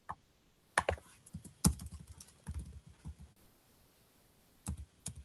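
Fingers tapping out a URL on a computer keyboard in a quiet room, with scattered close clicks, short bursts of keystrokes and brief pauses between them.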